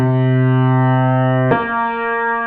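A sustained electronic tone holds one pitch, then jumps a minor seventh to another note about halfway through, played clean and fairly loud with no talking.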